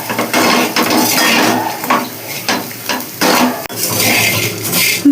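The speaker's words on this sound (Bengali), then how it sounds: "এই যে এবার ভালোভাবে নেড়ে নিচ্ছি।" Potatoes and neem leaves frying in a pan, stirred with a metal spatula: repeated loud scrapes and clinks against the pan in uneven bursts over a soft sizzle, close and with no talking.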